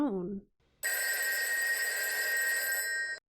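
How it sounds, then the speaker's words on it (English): A telephone bell rings loudly in one continuous, metallic trill lasting over two seconds, after a brief voice and a short silence. "Phone."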